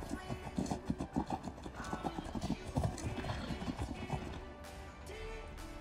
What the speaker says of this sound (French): Il est en train de galoper comme un ouf.